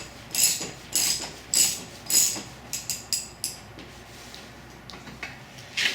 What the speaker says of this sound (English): I might just take a wrench and tighten that down a couple of threads.